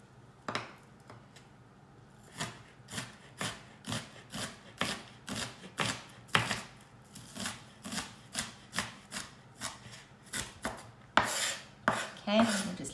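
A knife chops onions on a board during a home cookery class, about twenty crisp, evenly spaced strikes heard up close, speeding up toward the end, with no talking.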